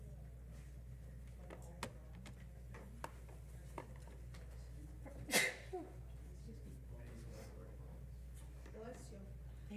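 A single sharp sneeze bursts out in a quiet meeting room amid a steady background hum and scattered small knocks and rustles.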